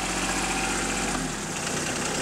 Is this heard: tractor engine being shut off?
yes